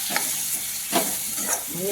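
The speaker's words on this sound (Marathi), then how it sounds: "असा फोडणीमध्ये आपण वरणाचा मसाला टाकायचा" Varan masala tipped into a sizzling hot tempering for a taro-stalk dal, with a steady close-up frying hiss and a few soft bursts of crackle as the spice hits the oil.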